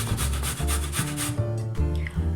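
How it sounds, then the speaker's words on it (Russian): A zucchini is rubbed back and forth on a fine kitchen grater, a close, rhythmic scraping in quick repeated strokes with brief pauses between passes. "буду натирать его на мелкой терке"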